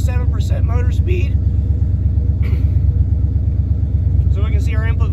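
A car idles with a steady low rumble throughout, its fuel pump on a DIY returnless system with MegaSquirt3, while someone talks over it nearby.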